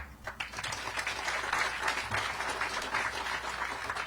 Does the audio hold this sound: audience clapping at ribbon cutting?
yes